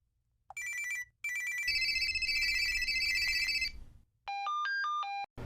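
A telephone rings on an outgoing call, electronic trilling bursts in repeated rings with short gaps, ending in a rising beep-tone sequence, clear and close with no voices.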